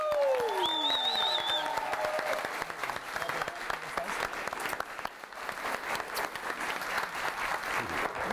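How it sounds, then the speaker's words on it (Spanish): A large crowd bursts into loud, sustained applause, dense clapping continuing steadily throughout, with a brief whistle near the start. "Quiero que reciban con un aplauso gigantesco a Tata Génico."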